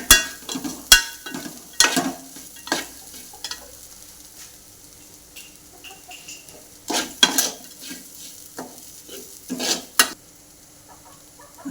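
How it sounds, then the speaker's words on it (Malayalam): Fish pickle being stirred in a pan, with intermittent scraping and clinking of a spoon against the metal, loud strokes spaced out and quieter gaps of faint frying between them. "വീണ്ടും നന്നായി ഇളക്കി കൊടുക്കുക."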